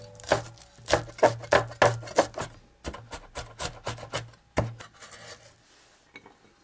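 Quick series of knife strikes on a cutting board as about 10 g each of shallots and garlic are crushed and then minced, the thuds coming in close, uneven bursts before trailing off near the end.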